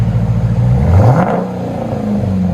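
A car fitted with an AWE exhaust, its resonator rasp removed, revs up and settles in a deep, loud, close engine roar that climbs then falls back within a couple of seconds.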